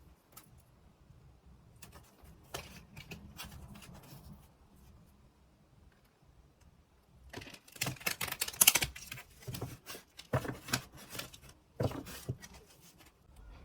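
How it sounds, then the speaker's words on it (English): Tarot cards are shuffled by hand, giving soft, irregular riffling and papery slaps in uneven bursts, quiet at first and then louder and busier, with no talking. "let me just shuffle them."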